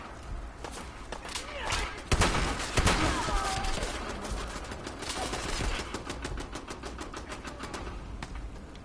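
Automatic turret fire in Fallout 4 rattles out in rapid bursts with heavy impacts around two seconds in, mixed with footsteps and movement as the shooting continues steadily and loudly throughout.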